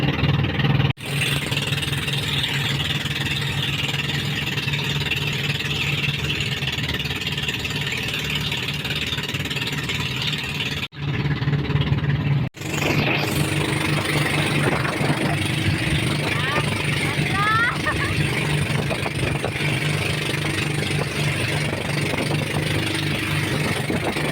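A motorboat engine drones continuously at close range during island hopping around Siargao Island, a steady mid-pitched hum with a couple of brief cutouts.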